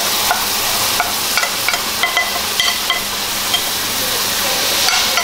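Cumin seeds and masala sizzle in hot oil in a pan for a crab curry, a steady close hiss broken by occasional scrapes and clinks of a stirring spoon.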